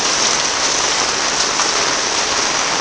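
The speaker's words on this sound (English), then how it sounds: "it's non-stop rain" Heavy rain pours steadily in a dense, loud hiss that doesn't let up, with no voices.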